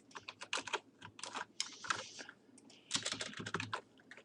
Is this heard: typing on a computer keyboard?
yes